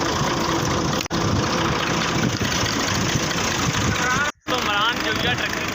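A tractor engine runs steadily and loudly throughout at close range, with a continuous dense rumble that cuts out briefly twice. Muffled voices may sit underneath it.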